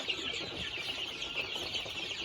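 Young chicks on a high mountain chicken farm in the Philippines chirp and cluck together in a continuous, busy chorus close by, with no talking.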